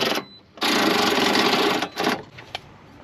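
Power driver tightening bolts through a Putco MOLLE panel into the back panel of a Jeep Wrangler JL, a long buzzing run followed by a couple of short bursts, close up.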